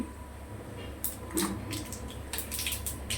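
Nigella seeds hit hot oil for tempering, setting off a burst of bright crackling sizzle that pops in clusters, close and moderately loud over a low kitchen hum.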